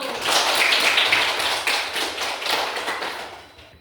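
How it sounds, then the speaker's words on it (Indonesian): Brief applause from a small group of students in a classroom, a few seconds of dense clapping that fades out at the end. "tepuk tangan untuk kelompok 1"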